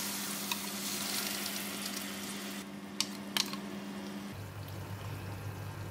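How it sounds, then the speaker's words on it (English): Sambal dropped into hot cooking oil in a pan, a steady sizzle and fry with a couple of sharp clinks partway through, carrying on over a low background hum. "Oil is getting hot, I'm going to put in the sambal."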